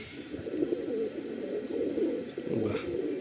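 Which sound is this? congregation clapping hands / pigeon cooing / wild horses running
pigeon cooing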